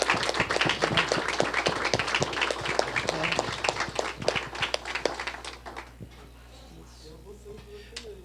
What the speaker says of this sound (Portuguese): eu queria realmente que aqui todos nós dessemos uma salva de palmas